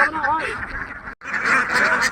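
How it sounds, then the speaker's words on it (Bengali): Ducks at a duck farm beside rice fields quack in a noisy cluster, close and fairly loud, broken by a brief gap, with someone talking over them. "এই হাঁসের খামার করছে এবং অনেক হাঁস অনেক কালারিং ফুলের হাঁস দেখুন"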